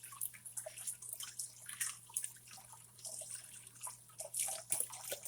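Water drips and trickles from a kitchen tap into a bowl of cold water holding a freshly peeled hard-boiled egg, with soft irregular splashes close by over a faint steady hum.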